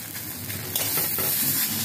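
Taro leaf paste fries in a pan, a steady close sizzle with stirring scrapes throughout, no voices.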